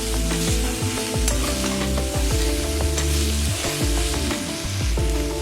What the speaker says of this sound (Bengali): এবার আমি সামান্য দিয়ে দেবো জল